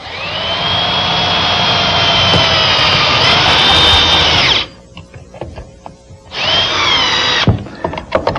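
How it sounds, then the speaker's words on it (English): A power screwdriver with a long bit drives a screw into a glued wooden rail joint on a cupboard build, with a loud whining motor run, a short pause, then a second shorter burst ending in a thunk. "a nice long screwdriver bit helps"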